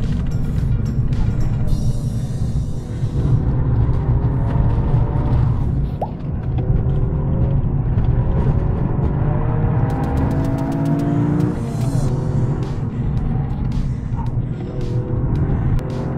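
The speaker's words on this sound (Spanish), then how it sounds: "Es muy rápido, el motor acelera súper veloz." A Toyota GR Yaris engine revs hard while drifting on a track, a loud continuous roar heard from inside the car, with the pitch sweeping up and down repeatedly and a brief dip midway.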